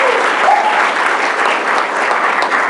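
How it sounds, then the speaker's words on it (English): Loud, dense round of applause from the attendees of a business meeting for a young man, continuous and even with no voices on top. "one more round of applause for this young man"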